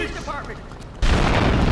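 A sudden loud burst of booming, crackling explosions in the video game GTA 3 erupts after a second of quieter chatter, going off close by.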